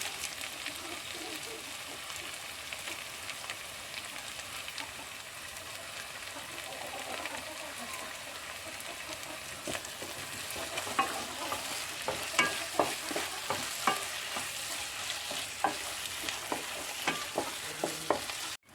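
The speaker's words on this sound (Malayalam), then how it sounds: "ഇനി നമുക്ക് തക്കാളി ഇടാം." Tomatoes fry and get stirred in a pan for a soybean masala curry, with a steady sizzle throughout and scraping stir strokes growing more frequent toward the end, close and moderately loud.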